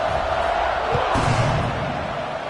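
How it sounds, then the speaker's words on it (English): A stadium crowd at a football game, during a kickoff after a scoring drive, roars as a dense, continuous wall of distant cheering and noise that swells slightly midway. "this crowd is feeling themselves after that last drive"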